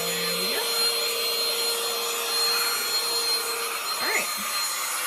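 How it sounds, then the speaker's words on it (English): A STARUMENT cordless handheld vacuum cleaner runs close by with a steady, high, whining hum that shifts pitch briefly as it is moved, and a person speaks briefly. "you can see my vacuum was actually blinking and didn't go to the 3rd setting right away because it needs to be charged"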